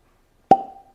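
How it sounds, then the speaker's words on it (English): A single sharp cork pop from a whisky bottle, close and loud, with a short ringing tail after silence. "See if we can get a good cork pop here."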